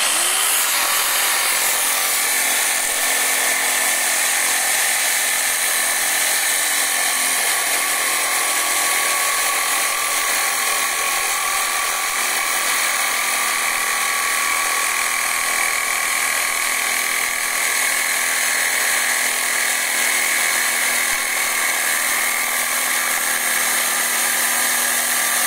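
A power saw runs loud and continuous for the whole stretch, a steady mechanical whine with a sustained cutting tone and no pauses or talk.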